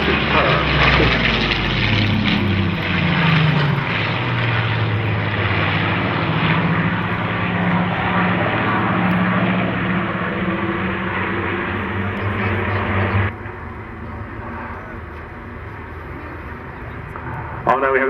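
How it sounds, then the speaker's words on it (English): Rolls-Royce Griffon-engined Spitfires, including a Mark 18 and a Spitfire XIX with contra-rotating propellers, making a pass: a loud, sustained piston-engine roar that holds steady, then drops abruptly as the aircraft move away. "we have the Griffons making another pass"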